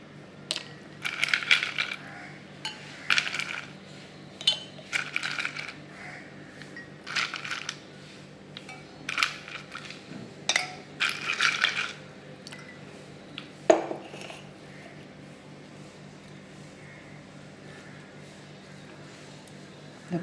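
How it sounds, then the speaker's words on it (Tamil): Ice cubes drop one after another into a glass of lemon juice, giving a series of close, bright clinks spread over about twelve seconds, then a single louder knock and quiet. "கொஞ்சமாக இது ஐஸ் கியூப் போட்டுக்கலாம்."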